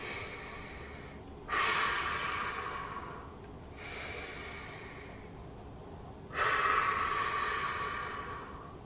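Deep breaths drawn in and let out during a breathing exercise, with three long airy inhales or exhales spread across the stretch, close and fairly soft, and no talking.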